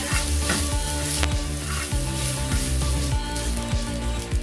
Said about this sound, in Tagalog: When the onions are cooked, we put back our mincemeat.